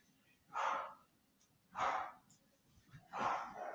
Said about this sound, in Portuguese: eu vi meus cachorros gritando ali, eu tô com medo que eles estejam brigando